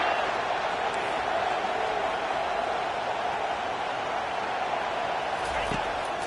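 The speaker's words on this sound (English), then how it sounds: "Third down and the crowd really getting into it." Football stadium crowd at the Rose Bowl, an NCAA game between the Dawgs and Terps, roaring steadily on third down as a dense, continuous wash of noise with no breaks.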